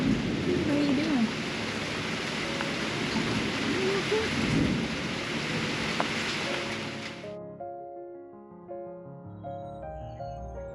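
Heavy, steady rain pours down with a low rumble beneath it, then cuts off abruptly, leaving quieter dripping and softer ambient sounds.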